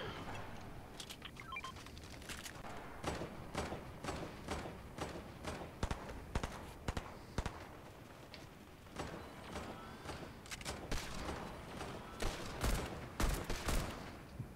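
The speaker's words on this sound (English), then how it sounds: "They're shooting to our left." Video game gunfire crackling in scattered bursts of sharp shots, some rapid and some spaced, going on throughout at moderate distance with no talk over it.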